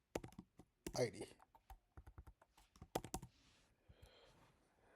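Typing on a computer keyboard, close crisp clicking keystrokes in quick clusters with short pauses, under a quiet voice that talks at times.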